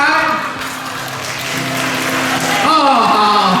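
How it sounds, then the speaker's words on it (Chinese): Audience applause at a church's 43rd-anniversary thanksgiving banquet, a steady wash of clapping lasting several seconds with a voice talking over it. "一般树龙长老这时候会起立鼓掌"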